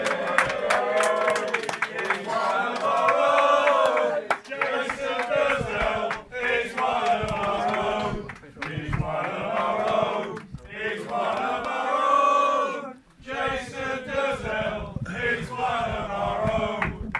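Football crowd chanting and cheering in full voice, a dense, sustained roar of singing that swells and dips over seventeen seconds, with brief quieter gaps.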